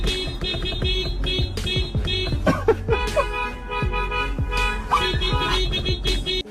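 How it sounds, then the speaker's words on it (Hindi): A car horn toots out a short melodic tune in a busy traffic scene, the repeated honk notes loud and close over steady engine and road noise, answered by honking from another vehicle. "वो पहले अपनी गाड़ी के हॉर्न से एक धुन निकालते हैं"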